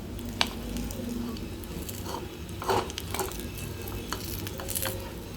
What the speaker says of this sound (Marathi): हे खजूर छान तुपावरती भाजून घ्यायचे आहेत